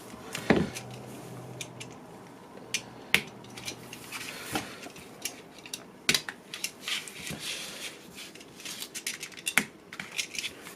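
Scissors snipping through carbon fiber vinyl wrap at the corners, a run of sharp close cuts and clicks with small handling noises between them, no talking.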